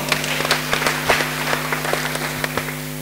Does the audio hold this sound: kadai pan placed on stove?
no